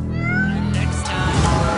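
A cartoon cat from the animated film Soul lets out a loud, drawn-out meow with rising and falling pitch, followed by a rougher vocal yowl over a music bed.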